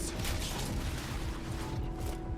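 Magazine swap on a weapon in the sci-fi shooter StarRupture, a run of quick mechanical clicks and ratcheting clacks close up over a steady loud game ambience and low rumble, without talk.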